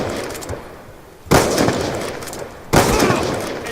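Pistol gunfire in the video game Black Ops 2 comes as two sharp, loud blasts, each followed by a decaying tail over steady game background noise.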